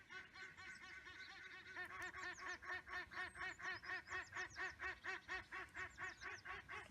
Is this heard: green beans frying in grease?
no